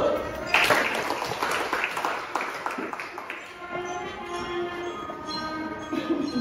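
Students in a high school classroom clap together, a burst of applause that swells early and then thins out, with some talking mixed in.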